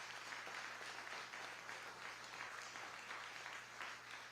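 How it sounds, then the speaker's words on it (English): A crowd at a Louisiana event with Vice President Kamala Harris, held to highlight internet access, gives a round of applause for the administration. The clapping is faint and distant but steady and dense throughout. "Give a big round of applause to the Biden-Harris administration."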